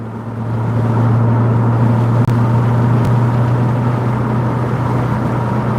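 A Chevrolet Corvette C7 Z06 engine drones at a steady low idle or cruise, loud and close, with a deep sustained rumble that barely changes and one brief dip partway through.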